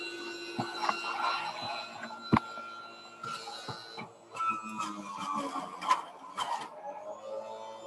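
Electric juicer running while apple, celery and orange are fed through it, giving a steady whirring mechanical drone with intermittent clunks and grinding bursts as pieces go in, moderately loud and close.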